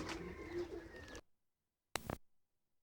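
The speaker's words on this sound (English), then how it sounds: "these are well kept pigeons" Well-kept spinner pigeons coo in a soft, close, continuous burble, then fall silent before a brief second burst of cooing.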